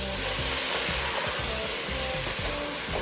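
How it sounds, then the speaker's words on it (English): Beef searing in a pot with McCormick steak seasoning gives a steady, loud broadband sizzle with scraping stir strokes throughout, and no one talks. "we got our meat searing. You can obviously hear it."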